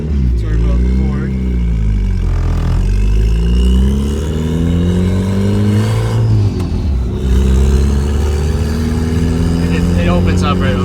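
Turbocharged Ford car engine loud and close from inside the cabin, revving hard through repeated climbs and shifts with rising and falling pitch, and turbo whistle audible near the end; voices talk over the engine throughout.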